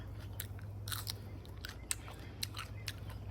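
Fresh garden pea pods bitten and chewed close up, giving a series of crisp, quiet crunches at an irregular pace over a steady low hum, with no talking.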